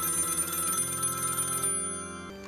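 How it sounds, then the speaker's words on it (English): A telephone bell rings steadily and loudly, its bright electronic tone holding for about two seconds before cutting off, with no talking over it. "Phone's ringing."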